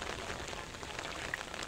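Steady rain from a typhoon hits surfaces outdoors, a continuous even hiss with no pauses and no voices.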